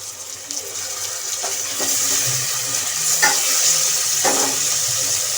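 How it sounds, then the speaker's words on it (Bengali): Ginger-garlic paste fries in a pan with already-fried onion, a steady close sizzle hissing throughout as a spatula scrapes and clicks through it now and then; no voices. "আদা রসুন ভাজা হয়ে গেছে"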